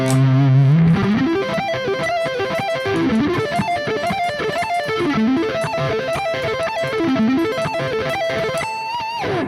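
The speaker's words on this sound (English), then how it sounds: "I actually suggest practicing your sweep picking with a good amount of distortion on your bridge pickup." A heavily distorted electric guitar on the bridge pickup plays fast repeated sweep-picked arpeggios, rising and falling in a steady pattern, loud and alone for the whole stretch.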